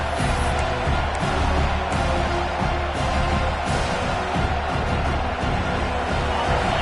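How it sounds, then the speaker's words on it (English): A stadium crowd at a football game late in the first half keeps up a steady, dense roar from start to finish, with no clear break or sharp swell in the wall of noise. "The roar of the crowd trying to fuel this defense to keep them pinned in their own end"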